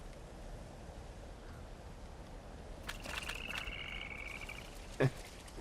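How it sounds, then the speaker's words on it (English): A frog croaks in the Ghost of Tsushima video game, with a couple of brief croaking calls over a steady ambient hiss of wind and water, then a short sharp knock near the end. "Do one more frog."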